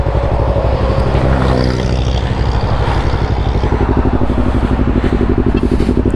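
Kawasaki Z800 motorcycle engine running steadily after being started, a loud close rumbling idle with a regular throbbing pulse and a rise in revs early on.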